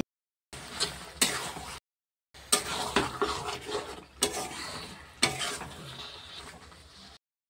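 Chicken pieces fry in ground spice paste in a kadai, giving a crackling sizzle with bursts of stirring and scraping, broken by short silent gaps.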